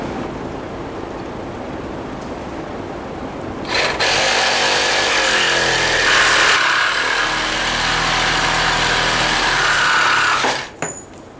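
A power tool bites into a metal hay rake shaft on a Massey Ferguson Model 25 rake, cutting in loudly with a high, steady whine that runs about seven seconds before stopping abruptly, after quieter background noise.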